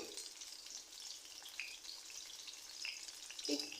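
Tomato chops frying in hot oil for an iftar snack, a steady close sizzle and crackle with a few brighter pops and spits near the end, no voices.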